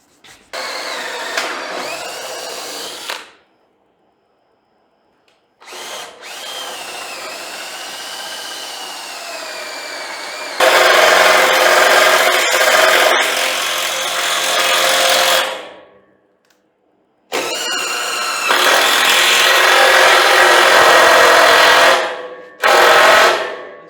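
A power drill drives screws into the wooden decking of a homemade trailer in four separate bursts, each whining and rising in pitch, with short silent pauses between them.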